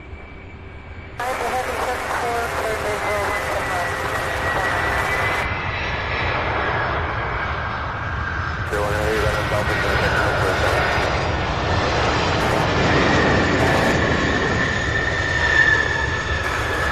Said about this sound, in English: an A300 out of Memphis, UPS flight 1381